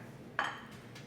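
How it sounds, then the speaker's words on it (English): Pie plate sprayed with coconut oil being picked up and set down on a kitchen counter: a single brief clink near the middle, then quiet. "I just picked my pie plate up."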